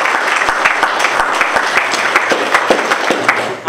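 An audience claps for an 80-year-old woman's birthday at a Shiv Puran reading, a dense, steady applause of many hands with sharp individual claps standing out, loud and continuous throughout.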